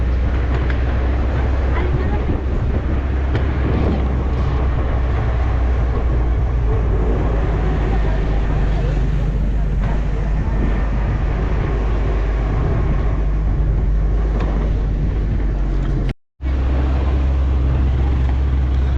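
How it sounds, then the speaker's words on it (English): A 4x4 vehicle drives off-road across a large rural property in Botolan, Zambales, its engine and rumbling body noise loud and steady throughout, with a brief dropout near the end. "this is my first experience on riding 4x4 vehicle in off-road"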